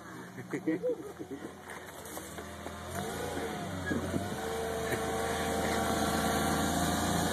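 Lexus LX450 engine on an off-road trail, idling and then rising into a sustained rev that holds steady through the second half, close and moderately loud, with voices faintly underneath at the start.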